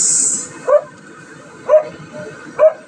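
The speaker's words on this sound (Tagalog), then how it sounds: "Yung aso natin guys is maingay" A dog barks three times in short, spaced yelps, fairly close, with a brief high whine at the very start, in the countryside.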